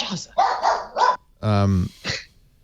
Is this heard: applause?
no